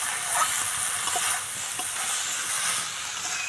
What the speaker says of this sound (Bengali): আমি এইভাবে 10 মিনিট মতো নেড়ে নেবো, একদম ঝরঝরে করবো